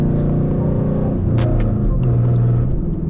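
A Dodge Challenger engine while being forced into gear without the clutch: a loud, steady, close low rumble that drones throughout, with a couple of faint brief clicks on top.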